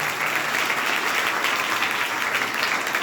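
An audience applauding at a public gathering, dense steady clapping throughout, fairly loud and continuous.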